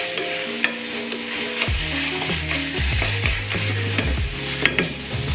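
Chicken fried rice being stirred and fried in oil in a pan, a steady close sizzle with scraping utensil strokes and clinks running throughout, no talking.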